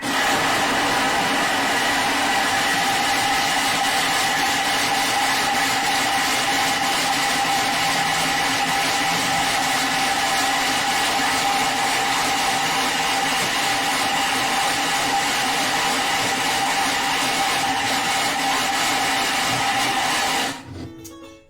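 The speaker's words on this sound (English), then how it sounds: "Lid on, and let's blitz this up" A kitchen blender runs at speed 7 blitzing beetroot hummus, giving a loud, continuous whirring drone for about twenty seconds before the motor cuts off and spins down.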